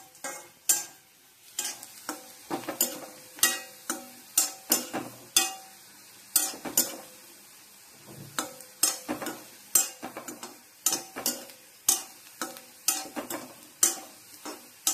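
Potato pieces frying in a pan, with frequent sharp spluttering pops and clinks of a spoon against the pan in an irregular rhythm over a quiet background.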